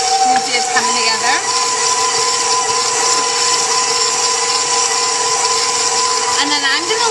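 A stand mixer kneads lean focaccia dough made with oil, giving a steady, continuous motor whir that holds unchanged throughout with no pauses.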